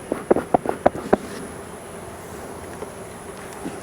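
Honeybees buzzing in an open hive, a steady low hum of many bees with a few sharp clicks and knocks near the start, close and moderately loud.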